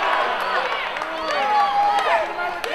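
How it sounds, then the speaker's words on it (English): An indie wrestling crowd in Napanee, Ontario cheers and shouts during a Hannibal versus Chaz match, a loud roar of excited voices with whistles and yells, while a commentator talks over it. "the crowd is absolutely loving it here in Napanee, Ontario"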